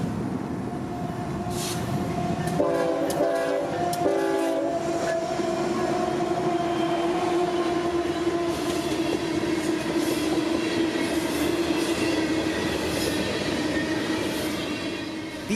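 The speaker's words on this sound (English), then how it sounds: "B207's string of jumbo-covered hoppers would roll into the siding, filled to the brim with Floridian phosphate" A CSX freight train of loaded jumbo covered hoppers carrying phosphate rolls into a siding on a Florida mainline, a steady near rumble with wheel squeal throughout and a few horn blasts early on.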